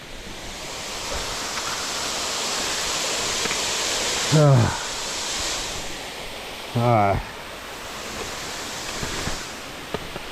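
A large mountain waterfall on Mt. Lafayette roars as a steady, loud broadband rush filling the whole clip, with a voice speaking briefly over it twice.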